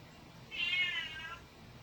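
One clear, drawn-out cat meow rises in the middle of an otherwise quiet indoor moment, fairly close and alone.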